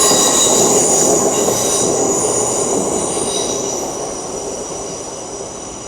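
An LNER Azuma express bound from Edinburgh Waverley to London King's Cross rolls through Manors station in Newcastle with a loud, continuous rail rumble and a high wheel squeal, slowly fading toward the end, no talking.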